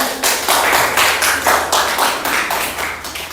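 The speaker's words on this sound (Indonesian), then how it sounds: "Kita tepuk tangan ya." A classroom group claps steadily for a few seconds, a dense, even patter of many hands close by.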